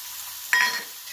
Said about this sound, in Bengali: এবার আমি একটা মাঝারি মাপের পেঁয়াজ কুচিয়ে নিয়েছি, এটা দিয়ে দিলাম।